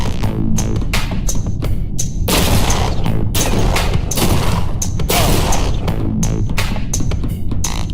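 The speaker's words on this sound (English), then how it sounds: "Okay, shotgun." Rapid bursts of gunfire and booming blasts from a shotgun in the PC action game G2 Fighter, loud and dense, with shots repeating every fraction of a second over a throbbing background.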